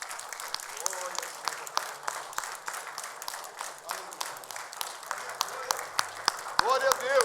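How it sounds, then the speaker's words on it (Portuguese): A church congregation applauds during a sermon on the Trinity, scattered hand claps mixed with voices, a preacher's speech and music running underneath, growing fuller toward the end. "Vamos aplaudir a esse Deus que nós servimos."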